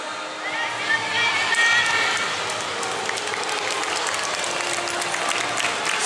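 Spectators lining the street at a Yosakoi dance festival's station-front main venue in Tokyo cheer and applaud steadily, a dense crowd roar with claps and shouts that holds throughout.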